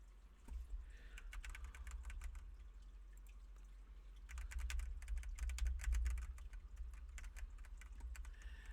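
Computer keyboard keys clatter in quick, uneven bursts while someone plays the Homestuck game, faint and close, with brief pauses between flurries and no talking.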